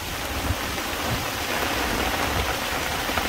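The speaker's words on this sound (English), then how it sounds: "Oh yeah, it's really raining now." Steady rain falls hard on a hammock camp with a tarp, a continuous close hiss of drops drumming on surfaces with no voices.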